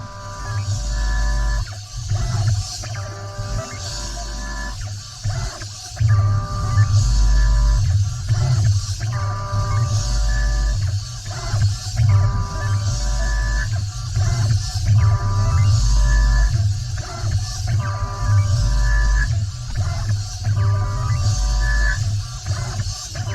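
Steady loud machining noise from a Tormach CNC mill cutting titanium, with a rhythmic pulsing low throb and harsh, ringing tool-chatter tones cutting in and out, continuous and close throughout.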